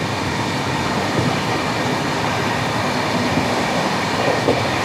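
Rail noise at Sonipat Junction station in India, a steady, loud wash of train rumble and rolling clatter with no clear breaks, heard close and without speech.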